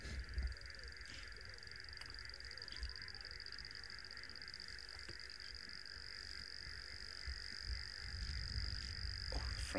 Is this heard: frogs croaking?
yes